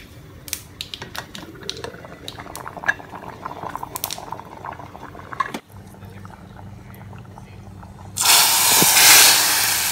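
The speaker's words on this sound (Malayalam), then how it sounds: "തിളച്ചുകൊണ്ടിരിക്കുന്ന സാമ്പാറിലേക്ക് ഒഴിച്ചു കൊടുക്കാം." Hot tempering is poured into boiling sambar. Scattered clinks and light tapping from the pan and utensils come first, then a sudden loud, sustained sizzle as the oil hits the liquid near the end.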